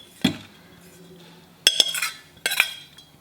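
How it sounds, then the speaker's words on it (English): A small spoon scrapes a herbal mixture out of a container for apple cider vinegar gummies, giving three short clinking, scraping bursts of metal on glass or ceramic at close range, separated by quiet pauses. "I'm just going to scrape this out with my little spoon here"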